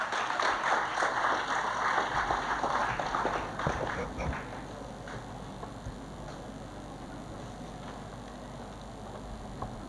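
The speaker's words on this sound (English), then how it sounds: "Give him a big round of applause." An audience applauds to welcome a speaker, Dr. Sumit Srivastav, to the dais at a stress-management talk, a dense wash of clapping that fades from loud to a faint, steady murmur.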